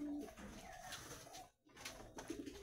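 Pigeons in a breeding cage coo softly and close by, low repeated throaty calls with a short quiet gap midway and no talking.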